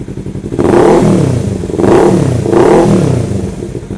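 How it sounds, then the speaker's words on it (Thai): A 2017 Kawasaki Z300 ABS twin-cylinder motorcycle idles, then its exhaust swells through three smooth revs. The note stays mellow and fairly soft, recorded close by with no one speaking. "มาฟังเสียงท่อกันเลย สียงท่อนุ่มๆเลยนะฮะไม่ได้ดังมาก"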